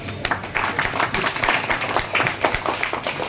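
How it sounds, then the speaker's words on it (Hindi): An audience at a political party meeting in Chand Bagh, Karawal Nagar claps steadily for a few seconds, a dense patter of many hands at moderate loudness with a faint crowd murmur underneath. "आप सब उनका ताली बजा के"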